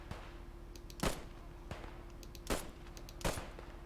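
An M1 Garand semi-automatic rifle fires in the shooter game Post Scriptum, three sharp, fairly distant shots spaced about a second and a half apart over a low, steady battlefield rumble.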